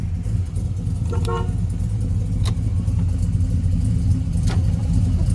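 A restored 1972 Chevrolet Chevelle gives a short, sharp honk of its horn over the steady low rumble of its idling engine, heard close up.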